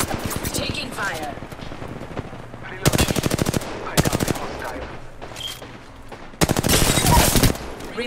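Automatic weapon fire in the Apex Legends video game comes as two loud, rapid bursts separated by a quieter stretch of distant shots and game effects.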